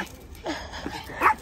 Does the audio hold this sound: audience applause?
no